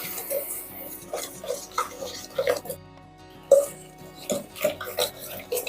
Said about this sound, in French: Et on va à nouveau remuer